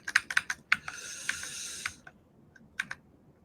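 Clicky keystrokes on a new computer keyboard come in quick bursts and short pauses, close and fairly quiet, with a brief electronic tone partway through.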